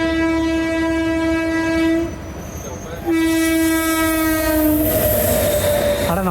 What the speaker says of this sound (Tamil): ஏதோ ட்ரெயின் கிராசிங்க